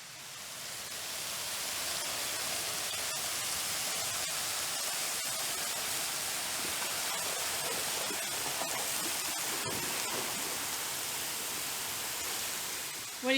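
A waterfall at the top of the falls at Little Lick Campground in Kentucky gives a steady, dense rushing hiss that holds unbroken from start to finish, with no talk.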